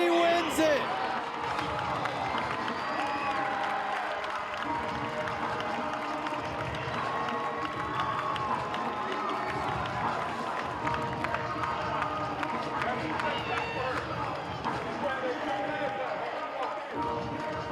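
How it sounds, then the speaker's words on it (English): An Illini basketball crowd keeps up a loud, continuous roar of cheering in a packed arena, with a commentator talking over it. "Listen to the Illini crowd, loud and proud"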